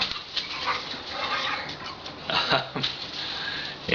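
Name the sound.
puppy whimpering in the background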